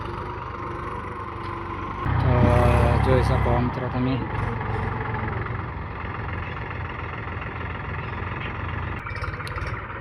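A tractor engine idling and revving as its front bucket is loaded, a loud low rumble that surges for a couple of seconds and then settles into a steady drone while someone talks over it.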